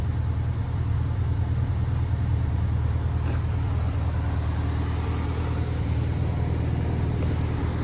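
1959 Euro-spec Volkswagen Beetle engine idling: a steady, even low rumble held at constant level throughout, with no talk.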